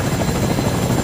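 A helicopter in the video game Fortnite whirs steadily and loudly, a dense continuous rotor drone with no break and no voices.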